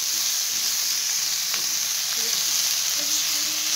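Peas and carrots stir-fried and mixed in a hot pan for chicken and vegetable macaroni, giving a steady close sizzle with a few light scrapes and clinks of stirring, no voices.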